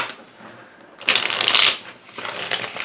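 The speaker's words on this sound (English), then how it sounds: "just as I'm shuffling here, you can see how well it shuffles" A Tarot de Maria Celia deck is riffle-shuffled, a soft rustle followed by two crisp, loud bursts of cards flicking together, close up.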